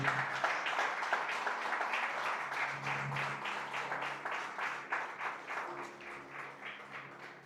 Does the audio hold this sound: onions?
no